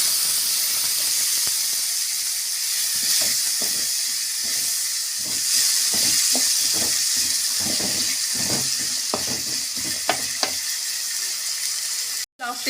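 Banana stem pieces go into a hot pan for a Tamil-style vazhai thandu poriyal, giving a steady loud sizzle and hiss throughout with rhythmic stirring scrapes and crackles over it; no talking.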